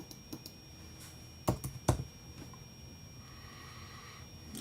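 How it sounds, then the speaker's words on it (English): Computer keyboard typing at an office desk, a brief cluster of crisp key clicks standing out over a quiet background hum. "I'm just going to type in CS."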